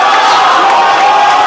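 A live crowd at a FlipTop rap battle roars and cheers loudly and continuously, a dense wall of noise with no pauses.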